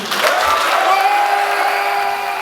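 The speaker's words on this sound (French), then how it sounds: "s'il vous plaît un tonnerre d'applaudissements pour lui" Crowd applauding a competitor after a sports competition, a loud, dense patter of clapping with some cheers, sustained across the short stretch.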